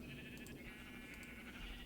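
Sheep bleat faintly in Minecraft, a few soft, short calls over a low background hum, distant and quiet.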